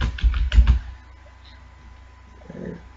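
A short burst of quick, close keystrokes clatters on a computer keyboard during C programming work, followed by a quiet pause and a faint soft knock.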